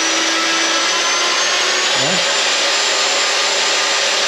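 A Black & Decker electric detail sander runs with a steady, loud whirring buzz from start to end, dipping briefly in pitch for a moment midway.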